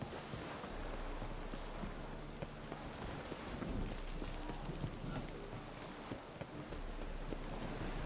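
Rain in The Witcher 3 video game, a dense, continuous hiss of falling rain with soft patters, joined by a low rumble and scattered clip-clop sounds in the background.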